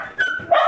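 A dog gives two quick, loud barks close by, a short yelp followed by a sharper bark, with no speech over them.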